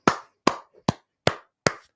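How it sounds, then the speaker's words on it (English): Five sharp, evenly spaced claps ring out alone in about two seconds, each with a quick decay, cheering on a guest at the end of a talk show. "A few claps for him."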